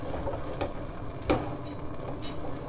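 Chicken ragu with lemon stirred around in a pan, giving a soft continuous sizzle with a few brief scraping clicks of the spoon, close and moderately quiet, no talking.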